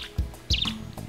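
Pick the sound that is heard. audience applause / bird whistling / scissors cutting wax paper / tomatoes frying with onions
bird whistling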